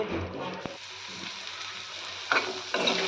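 Mixed vegetables with cauliflower and bitter gourd frying in a pan, a soft continuous sizzle broken by a sharp utensil knock early on and two louder bursts of stirring near the end.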